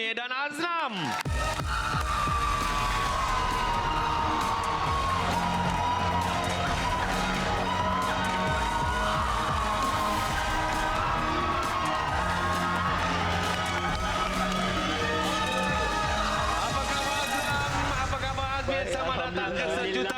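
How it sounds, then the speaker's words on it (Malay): Studio audience on a Malaysian game show, RM1 Million Money Drop, applauds contestants with a dense, steady wash of clapping and cheering that runs throughout, joined by music and a host's voice. "Kita berikan tepukan untuk Azmi dan Aznam."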